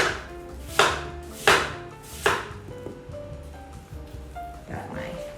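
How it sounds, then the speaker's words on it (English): Knife chopping an apple into small cubes on a cutting board, three firm evenly spaced thuds followed by softer, quicker taps, close and clear with a faint background hum. "I cut into little squares on the other side"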